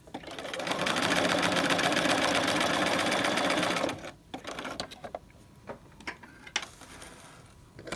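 A sewing machine stitches along piping on a piped pocket, whirring steadily and close for about three seconds, then stops, followed by scattered clicks and handling noises.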